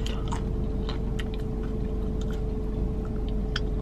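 Someone chews a crunchy Taco Bell taco with lettuce close to the microphone, producing soft, irregular crunching and squishing bites over a steady background hum.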